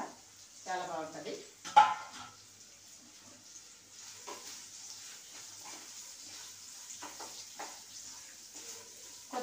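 Chopped carrot and onion fry together in a hot pan with a steady, close crackling sizzle that runs the whole time, and a voice is heard briefly near the start.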